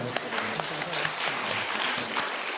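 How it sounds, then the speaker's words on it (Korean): A church congregation applauds during a Sunday worship service, a fairly quiet spread of many hands with a few sharper claps standing out, with faint voices murmuring underneath. "박수로 한번"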